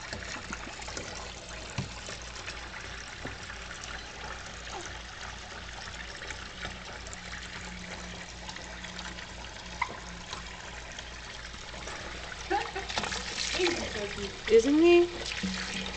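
Water trickles and dribbles softly and continuously in a baby bath, a faint steady wash, with voices and baby sounds rising near the end.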